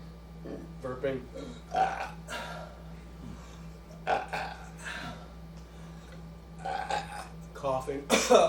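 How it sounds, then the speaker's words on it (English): A person makes repeated burping sounds as a vocal tic in a live stage play, several short low belches scattered at irregular intervals, fairly quiet and close. "Burping."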